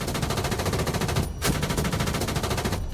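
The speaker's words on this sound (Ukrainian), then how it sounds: "На праву е клавішу миші у нас кулемет є." A tank's machine gun in the video game Afterconflict rattles out loud, rapid sustained bursts, with a brief break in the middle before the fire continues steadily.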